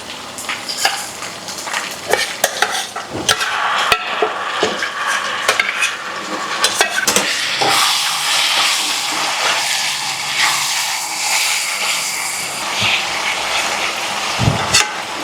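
Tamarind extract is poured into a hot tempering in a pan and stirred, giving a sizzle with repeated scraping and clinking of a spoon against the metal pan over about fifteen seconds.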